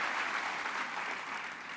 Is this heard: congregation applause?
yes